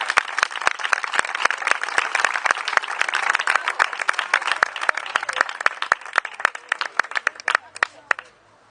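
Strong audience applause at a mystery storytelling reading, honouring an author's work: steady, dense clapping that stays loud throughout, then thins into a few sharp final claps.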